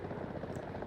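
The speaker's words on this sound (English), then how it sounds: "Helicopter coming." Helicopter in the War Thunder combat game, a steady rotor drone with rhythmic chopping that stays continuous and moderately loud for the full second, with no talk over it.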